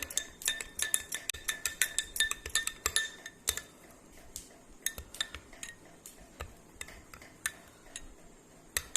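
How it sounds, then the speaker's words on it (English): A spoon stirs finger millet (ragi) porridge in a glass, ringing out rapid, close metallic clinks for about three seconds, then slower, scattered taps against the glass. "and then give it a stir."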